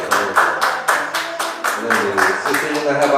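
A church congregation claps in a steady, even rhythm, many hands striking together about three times a second, loud and close, with voices mixed in under the clapping.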